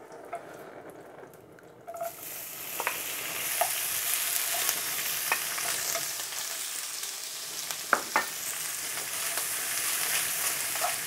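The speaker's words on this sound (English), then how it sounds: "I'm going to add our chicken now" Chicken pieces hit a hot, oiled wok and burst into loud, continuous sizzling and frying, with scattered scrapes and stirring clatters over the hiss.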